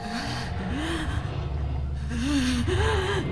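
Pained, ragged breathing from a character in the Spirit Hunter NG horror game, heavy gasping breaths and snorts repeating in uneven bursts close up, building slightly louder toward the end over a low rumbling background.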